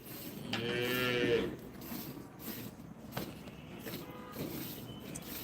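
A single loud, drawn-out buffalo moo close by, lasting about a second, followed by quieter shuffling and farmyard noise.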